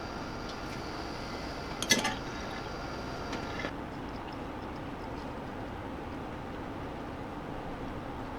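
Homemade wine runs through a siphon and racking wand into bottles, filled to the top of the neck: a soft, steady trickle of liquid throughout, with a brief clink near the start.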